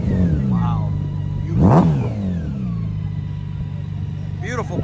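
A Harley-Davidson motorcycle engine idles with a low rumble and revs sharply once in a loud rising surge before settling, with people talking and exclaiming over it nearby.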